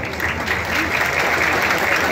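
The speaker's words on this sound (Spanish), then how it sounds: "Démosle ese caluroso aplauso a Banda El Salvador." Brief, dense audience applause for Banda El Salvador at a band festival in Berlin, an even, continuous wash of clapping from a crowd.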